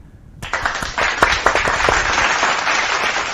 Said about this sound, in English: I forgot to give a shout of applause for all the viewers